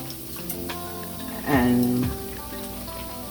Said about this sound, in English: I'm just giving them a second fry